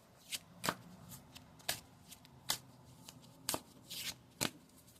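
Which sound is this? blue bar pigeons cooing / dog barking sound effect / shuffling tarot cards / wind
shuffling tarot cards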